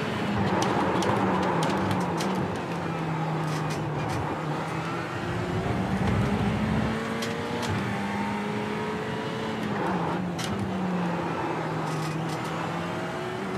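Ferrari GT3 race car in iRacing at Road America, engine note shifting steadily through downshifts as pitch rises and drops, loud and continuous with no talk.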